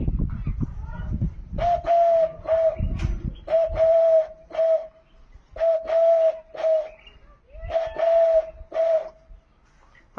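A performer mimics a dove's cooing with the voice: soft, hollow whistled coos repeated in three short groups. They are clear and close, following a brief low rumble at the start.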